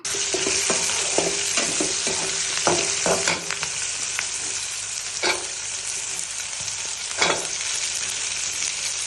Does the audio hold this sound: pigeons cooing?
no